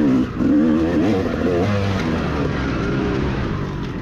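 A motocross bike ridden close behind at Loretta Lynn's, its engine revving and droning loudly, with pitch rising and falling through gear changes, heard alone and near.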